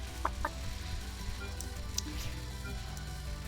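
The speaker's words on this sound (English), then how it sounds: "It's a chicken!" Short chicken clucks from a Touhou bullet-hell game, a few quick clipped calls near the start and middle, faint over a steady, dense game soundtrack.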